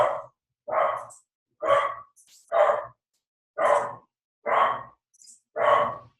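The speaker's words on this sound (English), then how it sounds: "now you hear my dog going nuts in the living room." A dog barks in a living room, seven sharp, evenly spaced barks in a row, loud and close with silence between them.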